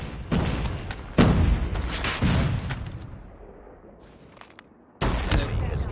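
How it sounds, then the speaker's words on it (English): A booming grenade blast in Call of Duty: Mobile, one of several loud explosive hits mixed with gunfire: sharp impacts near the start and around one second, a fading rumble, then another blast at five seconds. "Grenade out."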